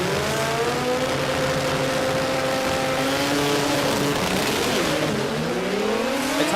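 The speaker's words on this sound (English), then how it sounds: "All I can hear is rotary" Rotary-engined race car screaming past at a Garrett Sydney Jamboree race day, a loud high-pitched engine note rising and falling with gear changes, alongside other cars on track.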